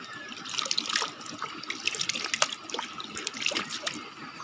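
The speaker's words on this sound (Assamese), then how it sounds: "সঁচাকৈ গাখীৰ বৈ আছে, নদী হৈ গৈ আছে ঝৰ্ণাৰ সৈতে মিলি" A milky-white stream spills from a waterfall into a river at a Shiva temple, a steady close splashing trickle with bright droplet spatters running throughout, no voices.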